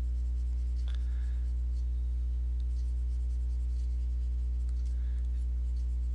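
A pen draws and inks a Wolverine figure on paper, giving faint, scratchy strokes that come and go over a loud, steady electrical hum, with no voices.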